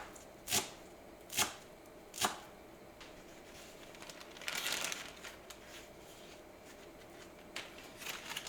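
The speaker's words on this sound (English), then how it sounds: "I am going to cut up the rest of the cilantro" Fresh cilantro being chopped with a knife on a cutting board for a leftover turkey dish: three crisp, evenly spaced chops, a soft rustle of leaves, then a couple more light cuts, close and quiet.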